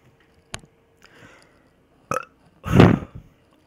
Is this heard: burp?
yes